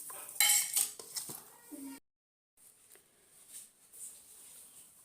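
A spoon clatters and scrapes against a pot while fried peanuts are stirred into lemon rice, with a few quick clinks, a short pause, then fainter mixing sounds.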